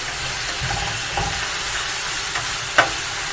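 Vegetables sizzling in a large fry pan, a steady close hiss with a few soft scrapes of stirring and one sharp clink near the end, no talking.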